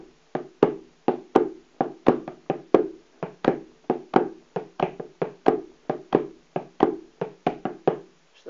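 An acoustic guitar is strummed in a jig rhythm with beats two and five left out, giving a loping, uneven pattern of crisp percussive strokes. The strokes repeat steadily and close up, with no voice.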